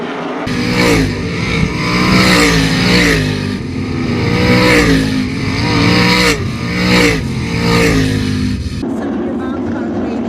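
305 sprint cars racing a heat at Attica Raceway Park, their engines roaring loud and continuous, swelling and fading in repeated waves as the pack circles the dirt oval.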